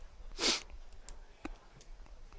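A sportscaster at a Breckenridge Bucks vs Hawley Hawks baseball game gives a single sharp sniffle, followed by a few faint sniffs and breaths in a quiet booth.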